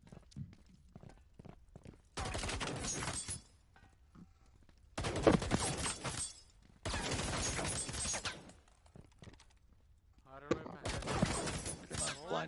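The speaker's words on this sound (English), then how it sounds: "Blind firing going here." Blind gunfire in a competitive video game match comes in several loud bursts of rapid shots separated by quiet gaps, with commentators talking underneath.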